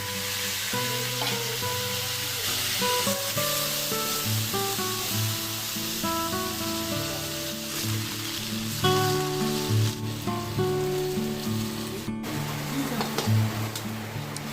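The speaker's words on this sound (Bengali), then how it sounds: "আলুগুলোকে আমি ভেজে নিব।" Potatoes frying in oil make a continuous sizzle and hiss, heard up close beneath steady background music throughout, with no talking.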